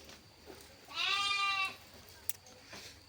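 A breeding ram kept for crossing with sheep gives one clear, drawn-out bleat lasting under a second, fairly faint against a quiet outdoor background, followed by a brief sharp click.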